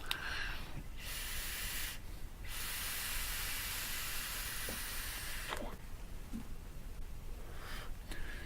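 Steady breathy hiss of vapor drawn through a single-coil dripper atomizer at 20 watts on a 0.87-ohm coil with 50/50 Kripton e-liquid, in long puffs broken by short pauses, close and fairly loud.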